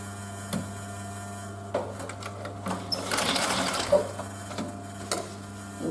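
A sewing machine stitches a seam on a canvas and leather bag, heard in short bursts of quick mechanical stitching over a steady low hum, with soft handling knocks between runs.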